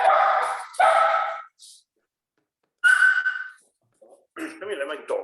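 A dog barks in several loud, close bursts, a pair of quick barks at the start, another after a pause, and a final yelping run near the end, with short silences between.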